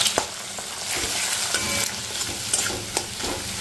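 Garlic, onion and chili frying in a hot pan, with a loud, continuous sizzle and spatter and repeated stirring scrapes and clicks near at hand.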